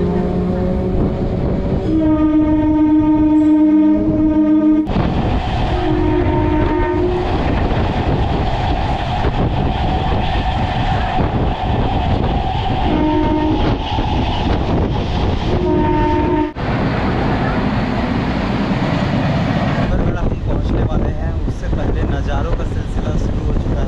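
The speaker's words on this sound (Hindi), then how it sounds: "अभी के टाइम हो रहे हैं 10:34 और हमारा ट्रेन पहुंच चुका है राजधानी।" A passenger train on the Raipur to Dongargarh route pulling into a station, loud rolling rumble and wheel clatter with several sustained horn blasts recurring throughout, brake and track noise continuous underneath.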